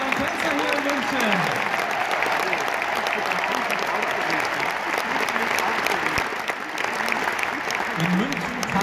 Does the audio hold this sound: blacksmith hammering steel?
no